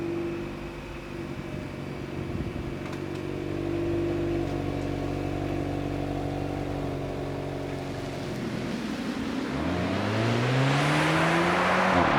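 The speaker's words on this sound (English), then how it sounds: "So let's get this slightly underwhelming startup and go for a drive." A Polestar 1 grand tourer starts up with a subdued hum, then a smooth, steady drive sound builds and rises as the car pulls away, close and continuous with no talking.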